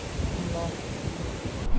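Strong storm wind high in Norwegian mountains at about 1000 m, with rain: a steady, close broadband roar buffeting the microphone, unbroken for the whole moment.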